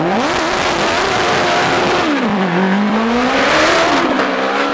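A supercharged Ford Suzuki hillclimb race car at Shelsley Walsh blasts past loud and close, its engine note rising and falling steadily through gear changes with no talk.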